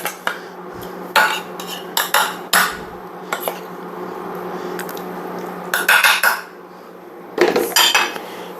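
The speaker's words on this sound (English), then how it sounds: "I'm just going to take a couple spoonfuls and coat the bottom of our pan" A spoon clatters and scrapes across the bottom of a pan while spreading spoonfuls of oil for Mediterranean cod, bursts of sharp metallic scraping and taps in irregular clusters over a faint steady hum.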